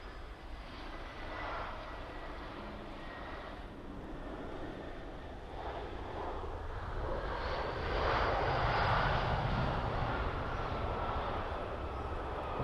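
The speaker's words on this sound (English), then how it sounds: "So this is the EasyJet A319 on approach from Belfast." An EasyJet Airbus A319 on approach from Belfast City airport, heard from the ground at Birmingham Airport as a steady broadband jet roar that swells louder toward the end, alone with no talk.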